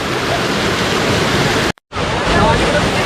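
Rushing waterfall and fast-flowing stream water where people bathe in the rain, a steady broadband roar that stays loud throughout apart from a brief cut-out midway.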